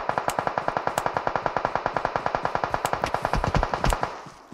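Automatic gunfire in the PUBG video game crackles out as a long, steady burst of rapid, evenly spaced loud shots lasting several seconds, with a slight tail at the end.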